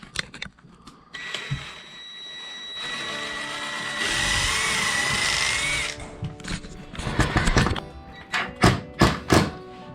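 A power drill drives a screw into a wall stud while bi-fold doors are installed, a rising motor whine held for a few seconds, followed by a run of irregular thumps and knocks.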